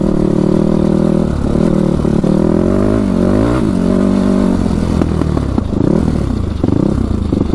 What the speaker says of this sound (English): Little backfire on deceleration there.